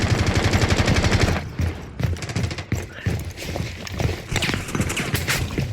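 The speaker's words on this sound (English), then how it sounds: "Oof, some bullets flying in very close." Close, rapid gunfire in a competitive esports match, with dense bursts of automatic shots and sharp cracks of bullets whizzing nearby, loud and irregular throughout.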